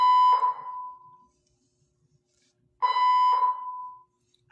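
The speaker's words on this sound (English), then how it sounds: "I'm having a fire alarm situation." A building fire alarm blares in two long electronic honks separated by silence, loud and steady, with no voices over it.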